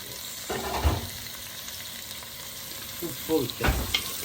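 Sliced onion, green chilli and curry leaves sauté in hot oil with a soft, steady sizzle, broken by a few louder stirring scrapes and pan knocks near the start and end.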